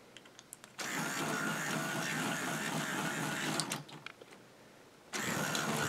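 Small K'nex toy motor driving a worm gear gives a steady mechanical whir and buzz that starts abruptly, runs for about three seconds, stops, then starts again; close and fairly loud, with no talking.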